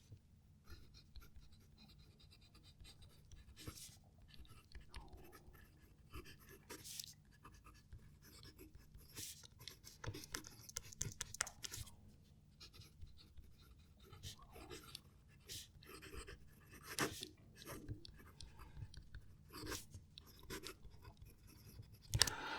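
A Jinhao 9019 or TWSBI Eco fountain pen writes a sentence on paper. It makes quiet, close scratchy strokes with a soft whisper and irregular pauses, and it skips slightly.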